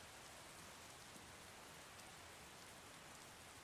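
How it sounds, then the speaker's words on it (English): Steady, dense rain falls in the video game Skyrim, a continuous hiss of drops on surfaces heard alone at an even level throughout. "The rain was very loud."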